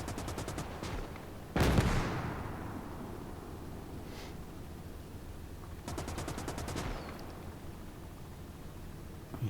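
Mortar and artillery fire rumbles through a World War II strategy battle in Gates of Hell: rapid machine-gun bursts, a heavy booming blast, then more rattling volleys over continuous distant battlefield noise.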